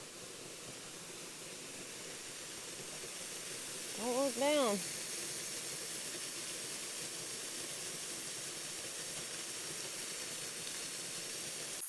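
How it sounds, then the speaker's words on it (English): Steady broadband rush of water from the upper section of a large waterfall on a backcountry hiking route, a constant roar with a brief spoken remark partway through. "So funny how this is the upper part of that waterfall"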